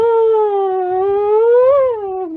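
A man imitates a police siren with his voice, a single sustained wailing tone that rises and falls, loud and close, with no other sound.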